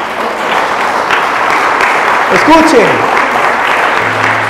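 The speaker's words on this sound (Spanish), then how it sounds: "Démosle aplauso a Cristo." Church audience applause during a sermon on holiness: a steady, dense wash of clapping from a congregation, fairly loud, with a brief voice speaking over it midway.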